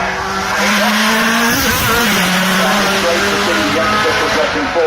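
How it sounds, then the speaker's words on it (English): A BMW M1 Procar race car with a rear-mounted six-cylinder engine roars past at a festival of speed, loud and close with a rising and falling engine note and crowd noise underneath. "M1 with the 6-cylinder engine mounted in the back of it"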